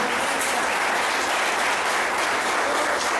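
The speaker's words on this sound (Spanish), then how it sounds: "Yo que usted le dé un aplauso al Señor." A church congregation applauds during a Spanish-language sermon, a dense, steady wash of clapping that holds loud and unbroken throughout.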